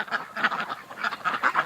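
Ducks in a winter yard keep up a busy, overlapping run of quacks and honks, close and steady throughout.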